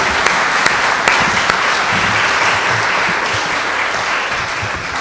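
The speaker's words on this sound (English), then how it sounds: "Taryn deserves a second round of applause." An audience at a luncheon applauds steadily, a dense wash of clapping with a few sharper individual claps near the start, continuing without a break throughout.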